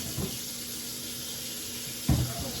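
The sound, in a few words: washing hands under running tap water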